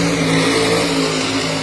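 A truck drives fast over a hole between cones on an off-road course, giving a steady, loud engine drone with a constant pitch and no sharp impact.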